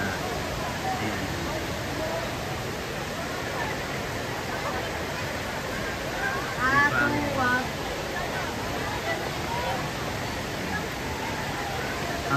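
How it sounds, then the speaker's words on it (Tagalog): A waterfall gives a steady broadband rush throughout, with people talking faintly and a brief bird-like chirp over the continuous roar. "Ang ganda ng falls."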